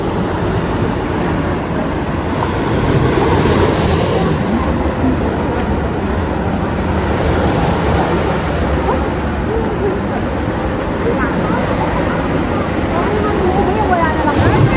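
Ocean surf at Laguna Beach, California washes in as a continuous broad roar with gentle surges, while people chat nearby over the water noise.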